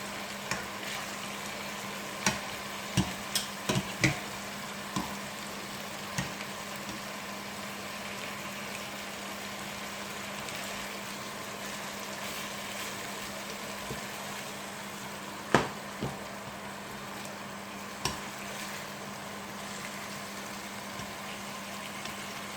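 A chicken burger patty fries in a pan after being flipped, giving a soft, steady sizzle at low volume with a few scattered sharp pops and clicks.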